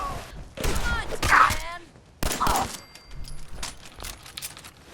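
10mm pistol gunfire in Fallout 4: a few sharp shots with metallic clatter and ringing tails, spaced apart over a few seconds alongside thuds of combat.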